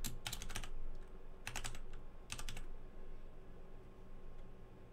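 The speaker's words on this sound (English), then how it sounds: "let's make sure I didn't goof the typing" Fingers type on a computer keyboard during a live Pokémon game stream, with three quick bursts of crisp key clicks separated by short pauses in a quiet room.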